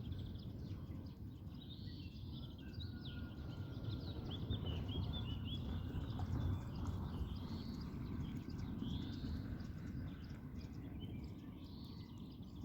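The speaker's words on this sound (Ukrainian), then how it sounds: "Спів птахів." Soft birdsong chirps and calls sit faintly above a steady, heavy low rumble of road noise, the birds scattered through the whole stretch rather than close or loud.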